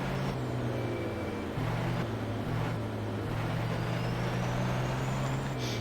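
Big racing truck engine in a truck racing sim at Caruaru, a steady low droning rumble that shifts pitch as gears change, heard alone with a faint hiss near the end.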